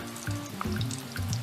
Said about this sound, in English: I'm going to deep fry it now